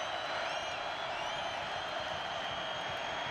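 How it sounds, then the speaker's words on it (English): Football stadium crowd on its feet during a Maryland at NC State college game, a dense, steady roar of cheering with a few whistles riding over it, loud and continuous throughout. "Crowd on its feet."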